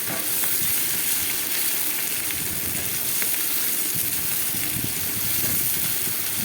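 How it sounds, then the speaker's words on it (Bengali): Loud, steady sizzling of shrimp frying in hot oil in a pan, a constant crackle with occasional pops, no voices. "চিংড়ি মাছগুলো একটু ভাজা ভাজা করে নেবো"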